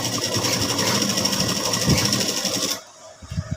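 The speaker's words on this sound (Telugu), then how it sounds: "ఇక్కడ కూడా డబల్ స్టిచ్ వేయాలి చూసుకొని డబల్ స్టిచ్ వేసాను" Sewing machine running a double stitch on a halter neck cloth, a steady fast whirring hum held close for nearly three seconds before stopping abruptly, followed by a few faint soft knocks.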